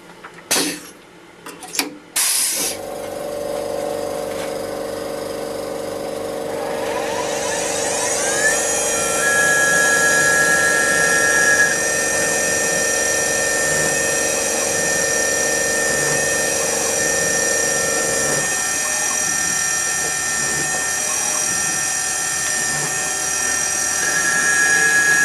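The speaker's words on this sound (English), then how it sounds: "Okay, step one's a spot drill." A Tormach PCNC440 CNC mill runs a spot-drill step on metal ahead of a 2.5 mm drill and tapping: after a few clunks, a steady close machine whine starts, its spindle tone rising and then holding level at a high pitch throughout.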